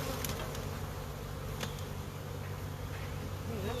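Honey bees swarm around an opened hive, giving a dense, steady buzzing drone with individual bees zipping close past the microphone now and then, fairly quiet and constant throughout.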